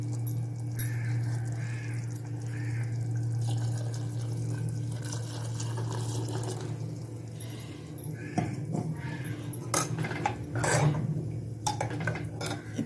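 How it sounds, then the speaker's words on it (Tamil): Running water with clinks of a blender jar being washed, plus a steady low hum; later sharper clatters and splashes, close by. "நான் மிக்ஸி ஜாரை இப்போ கழுவி தண்ணி"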